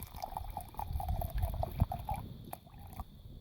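Water is poured into a cooking pot outdoors to refill it for rice, a quiet steady splashing and trickling that fades near the end.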